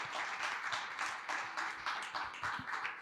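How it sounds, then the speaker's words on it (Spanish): Quiet, steady clapping from an audience welcoming science communicator Luis Quevedo before a talk on artificial intelligence, a soft continuous patter of many hands with no voices over it. "Un sentidísimo aplauso para Luis, por favor."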